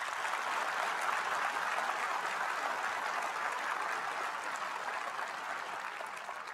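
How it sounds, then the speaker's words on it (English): A large crowd at a fall university commencement ceremony gives a long, even round of applause, a distant, steady wash of many hands that tapers slightly at the end. "Ladies and gentlemen, would you give my teammates a round of applause?"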